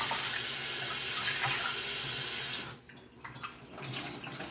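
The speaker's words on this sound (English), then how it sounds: "You just want to rinse it out real good." A tap runs in a steady loud gush while dyed wool roving is rinsed, then the flow cuts back to quieter splashing and trickling as the fibre is handled under the water.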